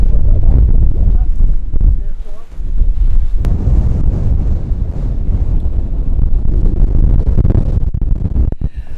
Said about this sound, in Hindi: चारों तरफ मतलब ये पहाड़ सारे नीचे नज़र आ रहे हैं यहाँ से, इसलिए हवा बहुत ज़्यादा ही तेज़ है।